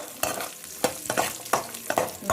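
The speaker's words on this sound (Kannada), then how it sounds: "ಒಂದು ಸ್ವಲ್ಪ ಒಂಬಣ್ಣ ಬರೋವರೆಗೂ ಫ್ರೈ ಮಾಡ್ಕೋಬೇಕು" Chopped sapota pieces stirred and fried in a pan for sapota kesari bath, with repeated scraping strokes of a spatula over a soft frying sizzle, close and fairly quiet, no voices.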